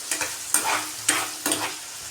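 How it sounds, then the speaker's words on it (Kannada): Bottle gourd sizzles and fries in a pan, while a spoon scrapes and stirs it in four or five distinct strokes over a continuous crackling hiss. "ಉಪ್ಪಾಕಿ ಫ್ರೈ ಮಾಡ್ತೀನಿ"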